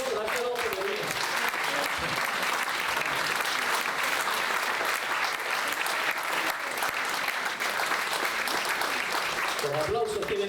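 A church congregation claps steadily and enthusiastically for several seconds, a dense wash of applause with a few voices audible at the edges.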